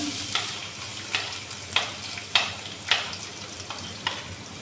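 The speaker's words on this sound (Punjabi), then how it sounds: "ਆਪਾਂ ਹਰੀ ਮਿਰਚ ਤੇ ਲਸਣ ਨੂੰ ਥੋੜਾ ਜਿਹਾ ਕਲਕਾ ਲਾਂਗੇ" Garlic and green chili fry in hot oil for dal makhani, giving a continuous soft sizzle broken by regular scraping stir strokes roughly every half second, close and without talk.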